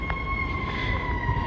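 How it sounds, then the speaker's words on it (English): A fire engine siren wails steadily at a distance in the city, a sustained high tone holding through the moment with no voices over it. "Yeah, there it goes. There's a fire engine."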